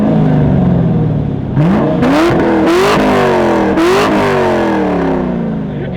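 A V8 car engine, likened to a 5-litre, revs hard several times, the pitch climbing and falling with each blip over a throbbing idle, loud and close.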